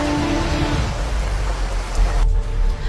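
Rain, hail and thunder as a sound effect: dense steady hiss of heavy rain and hail with a deep low thunder rumble underneath, loud and continuous throughout.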